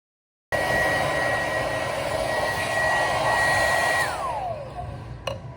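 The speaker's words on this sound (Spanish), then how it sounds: "Secado con el secador, mojado." A hair dryer blows on wet hair, starting abruptly and holding a loud, steady whirring hum, then winding down in pitch as it is switched off with a click at the end.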